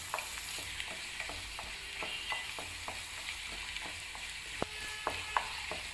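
Mutton curry with a few mint leaves cooks on a medium flame, giving a soft, continuous sizzle. Light, regular clicks of stirring run through it, and sharper knocks come near the end.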